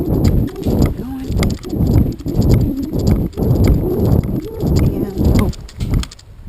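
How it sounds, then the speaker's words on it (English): Horse hooves at a gentle canter, a rhythmic series of loud close thuds in a steady repeating pattern, with a rider's voice audible over the hoofbeats. "Canter. Nice gentle canter."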